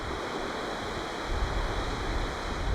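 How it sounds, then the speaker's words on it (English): A waterfall on the Isle of Skye flowing down a valley beside a ridge viewpoint, heard as a steady broadband rushing of water with some wind buffeting, continuous and fairly close. "there's that beautiful waterfall just flowing down beside us here"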